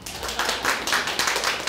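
An audience claps during a lecture-style talk, a dense, steady patter of many hands that swells and eases in waves, fairly close and with no voices over it.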